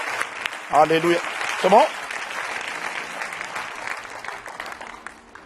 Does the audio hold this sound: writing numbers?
no